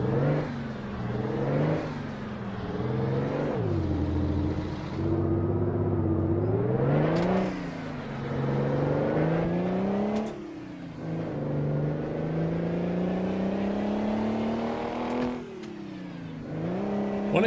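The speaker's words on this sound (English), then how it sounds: "1700 RPMs, you really hear the exhaust note kick in" Truck engine in a trucking video game revving and accelerating through rising gear pulls near 1700 RPM, the exhaust note growing louder and raspier, with pitch sweeping up repeatedly between brief shifts, steady and close.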